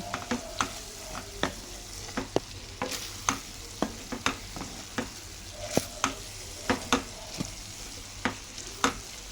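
A spoon stirs a fenugreek leaf, broad bean and tomato curry in a hot pan, with a steady sizzle and regular sharp scraping clicks, roughly one or two per second, close and fairly quiet.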